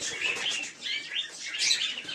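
Pet Giribaz pigeon calling in a loft, with a steady stream of close, bright chirps and soft twittering notes that run without a pause through a couple of seconds.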